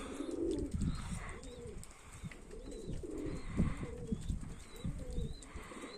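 Pigeons cooing close by, repeated soft throaty coos in a steady rhythm with a few faint chirps and some low outdoor rustle behind them.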